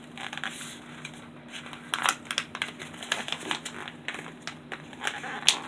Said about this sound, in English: You fold it in half again.